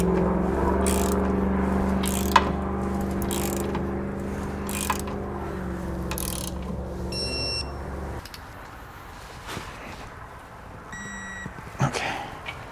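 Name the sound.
torque wrench ratcheting while tightening base plate hardware on a 2018 GMC Sierra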